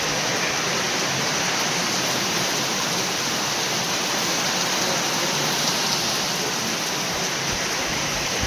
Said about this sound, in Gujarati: આ બાજુ તો કાંઈ દેખાતું જ નથી એટલો વરસાદ પડે છે